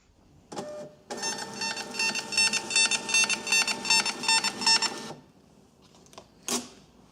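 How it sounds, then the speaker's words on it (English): A loud, steady mechanical whirring with a rhythmic pulsing runs for about four seconds as a Brady BBP12 label printer feeds out a label, then stops; a brief beep follows. "We're printing to the Brady BBP12 printer, and print"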